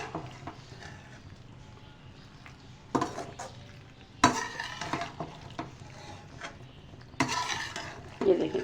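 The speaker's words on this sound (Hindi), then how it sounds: "ये देखें 3 से 4 मिनट इसकी अच्छे से हम मिक्सिंग करेंगे" Masala pasta being stirred into sauce in a pan, with a gentle sizzle beneath irregular scrapes and clanks of a spoon against the pan and a few louder knocks, heard close with no talking.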